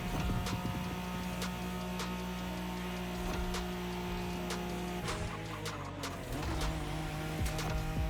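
Nissan Skyline in The Crew Motorfest, its engine giving a steady, fairly loud hum and drone with faint clicks and shifting tones, no voices over it.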